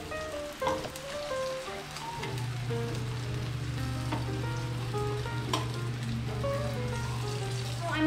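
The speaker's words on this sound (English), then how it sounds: "Cooking now my kimchi" Kimchi fries in a hot pan with a continuous crackling sizzle and scattered pops, heard up close at moderate volume with a low steady hum underneath.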